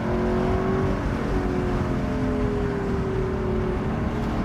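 A Lexus LC 500 engine roars loudly, its pitch rising and falling as it revs up to 7,000 rpm on downshifts, close and continuous.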